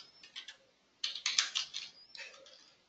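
Quick bursts of keystrokes on a computer keyboard, close and crisp, with short pauses between clusters of clicking taps.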